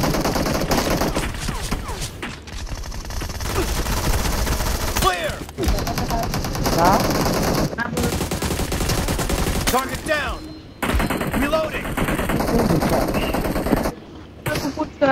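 Rapid bursts of automatic gunfire in the mobile battle game PUBG Mobile, loud and repeated volleys with short gaps, mixed with occasional talk from a player.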